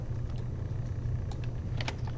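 Computer keyboard being typed on during a coding session, a few faint scattered key clicks over a low steady background hum, with a short burst of taps near the end.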